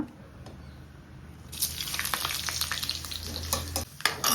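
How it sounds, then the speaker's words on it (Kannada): Quiet at first, then a burst of crackling sizzle as spice tempering hits hot oil, continuing with sharp pops and spatters. "ಈಗ ಒಗ್ಗರಣೆ ಹಾಕ್ಕೊಂಬಿಡೋಣ."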